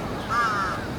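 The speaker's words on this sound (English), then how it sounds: "Crows walking." Crows caw near a fishing port on Enoshima, Japan; one drawn-out caw rings out at mid-distance over steady outdoor background noise.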